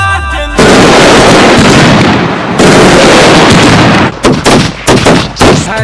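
Loud Diwali firecrackers, a hydro bomb among them, go off in a fast crackling barrage, break briefly, then burst again in a dense run before ending in several sharp, separate bangs.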